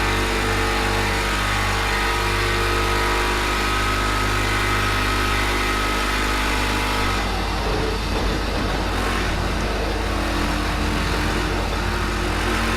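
An LMP3 race car engine in Project Cars 2 drones loud and steady, then shifts pitch and roughens partway through as the car changes speed, continuous with no talking.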